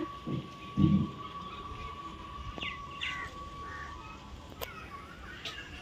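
Birds calling outdoors by farm fields on a sunny, breezy morning: a few short calls, including a crow-like caw, ring out at middle distance over quiet wind and a faint steady hum.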